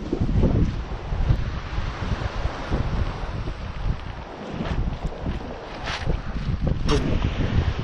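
Strong wind gusts roar and buffet the microphone at a windy seashore, a dense continuous rumble with rustling bursts throughout and no clear talk.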